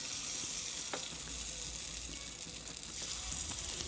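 Ladlefuls of leftover fermented batter poured into hot oil sizzle and bubble steadily at close range, with a brief sharp splash or crackle about a second in; no voices.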